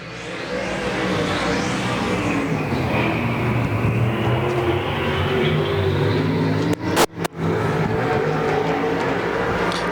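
Race cars circling the dirt oval at Golden Triangle Raceway Park during Spring Havoc, a loud continuous roar of engines sustained throughout with a few brief sharp dropouts near the end.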